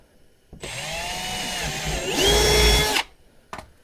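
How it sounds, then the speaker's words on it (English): A power drill whirs steadily for about two and a half seconds, its pitch shifting as it bores through plastic body panel, then stops; a brief short burst follows. "Drill goes through plastic very easily."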